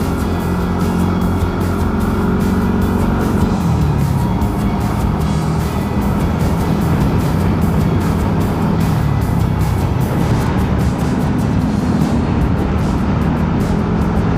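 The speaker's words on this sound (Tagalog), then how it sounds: "Lalaki ng truck na dumadaan dito" Large trucks pass along a seaside road near a port in Mariveles, Bataan: a continuous loud rumble of heavy engines and tyre roar, with low motor tones shifting as vehicles go by close to the listener.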